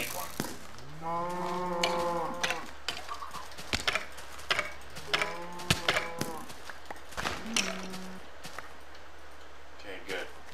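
Cartoonish cow moos from a video game about herding an invincible cow, several drawn-out harmonic calls repeating through the stretch alongside clicks and short game effects, with a voice talking over parts of it.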